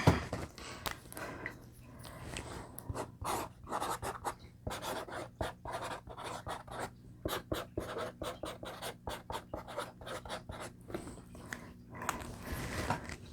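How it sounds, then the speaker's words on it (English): A permanent marker squeaks and scratches across a plastic seed container used for winter sowing, in a steady run of short, close strokes with brief pauses, no talking. "And then I'm going to write on here my variety."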